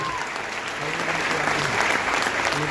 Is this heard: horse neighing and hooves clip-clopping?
no